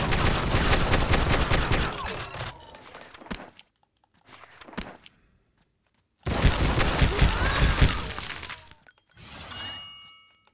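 Gunfire mixed with shattering, clinking glass fills an action sequence in the game True Crime: Streets of LA, coming in two loud, dense bursts of shots and debris with short scattered impacts between them.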